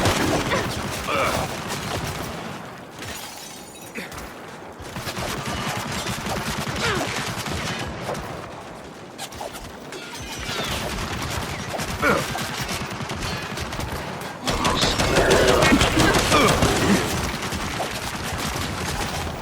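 Turret fire in the shooter game Gears 5, dense rapid automatic bursts, explosions and crashes that run throughout and swell louder near the end, with shouted voices mixed in.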